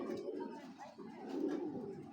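A restless racing pigeon gives soft, low, rolling coos close by, with faint rustling between calls.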